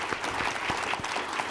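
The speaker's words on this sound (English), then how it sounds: "So how about we give a quick round of applause for our" Dense, even applause from an audience greeting panelists at a First Amendment discussion, a continuous close crackle of many hands with no talking over it.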